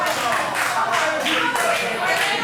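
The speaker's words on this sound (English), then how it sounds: "listen to the crowd again, appreciating both men" A wrestling crowd applauds both men after a match, with dense clapping and cheering that stays loud and steady for a couple of seconds, no separate voice standing out.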